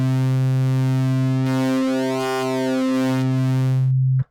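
A Synthmaster 3 wavetable oscillator holds a steady, loud synth tone that starts as the default sine wave, then morphs: its harmonics sweep and shift through the middle before settling and abruptly cutting off at the end.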